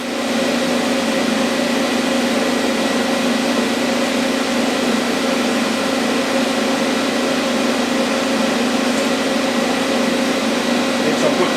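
TIG welding on stainless steel with filler rod gives a steady, loud broadband hiss and buzz with a constant drone throughout, no breaks in the arc.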